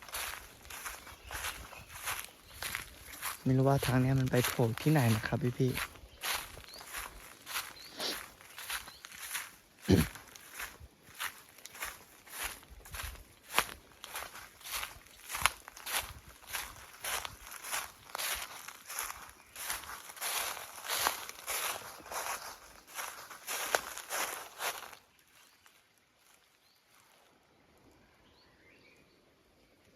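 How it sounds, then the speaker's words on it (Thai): Footsteps crunch steadily through a quiet forest trail, a regular walking rhythm close to the listener, with a brief spoken remark early on and insects faintly in the background before the steps fade near the end. "เดี๋ยวผม จะเดิน เรื่อยๆนะ"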